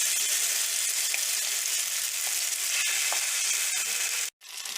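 Mashed bean paste fries in a pan on a low flame with a soft, steady sizzle and a few faint stirring scrapes, briefly cut by a moment of silence near the end.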